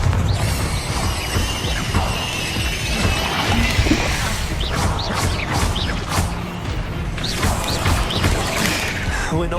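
A Bombarda spell blast in Hogwarts Legacy, loud crashing and smashing debris with repeated whacks and rumbling over several seconds amid combat noise, with voices mixed in.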